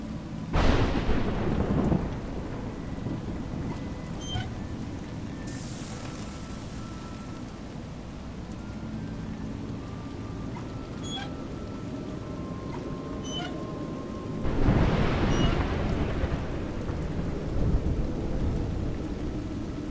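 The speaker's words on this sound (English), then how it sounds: "It's raining." Heavy rain pours steadily in the video game A Juggler's Tale, with loud rolling thunder crashes near the start and again toward the end.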